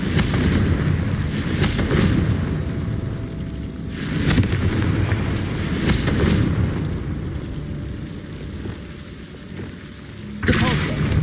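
Confringo blast spell cast in a wizard video game, heard as a series of heavy booming explosions that burst out at irregular moments over a constant rumbling game background.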